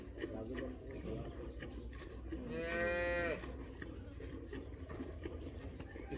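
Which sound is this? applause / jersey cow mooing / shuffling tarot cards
jersey cow mooing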